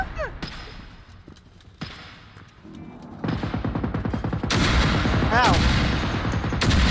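Gunfire in a warehouse in Generation Zero starts with scattered shots and then builds into sustained, loud automatic bursts that echo in the enclosed space, with a brief pained vocal cry among them.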